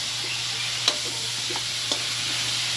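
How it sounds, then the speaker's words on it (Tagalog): Pork humba sautéing in a pan, the already-softened meat giving a steady, soft sizzle with a couple of brief clinks of a spoon stirring against the pan, close and alone. "habang ginigisa natin yan"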